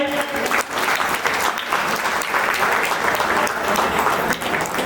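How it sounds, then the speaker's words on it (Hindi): Audience applause at a farewell gathering of SRP line staff, a steady dense burst of clapping from a crowd lasting throughout, with a brief voice heard at the start. "तालियां हो जाए।"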